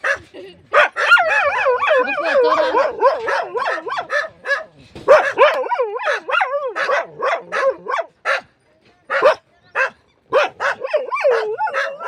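A dog barks and yelps over and over close by, mixing sharp barks with whining, howl-like cries in uneven bursts and short pauses.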